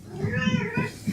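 A cat lets out a single drawn-out meow, close and fairly loud, with a wavering, slightly strained tone and no talking over it.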